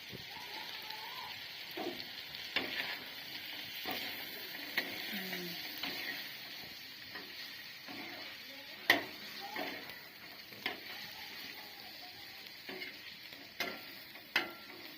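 Chicken pieces frying with garam masala and chicken masala in an iron pan, giving a soft, steady sizzle broken by sharp scrapes and clinks of stirring at irregular moments.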